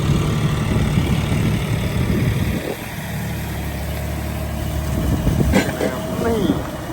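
A John Deere 5040D tractor engine runs with a steady low, throbbing drone close by, while people talk over it throughout.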